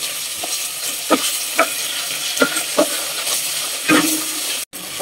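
Chicken pieces and garlic fry in a pan at home, a steady close sizzle with repeated stirring scrapes and clinks of a utensil against the pan, no talking.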